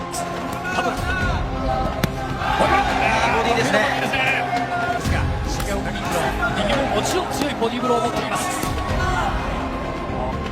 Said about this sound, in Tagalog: hiyawan ang mga kababayan ng Japanese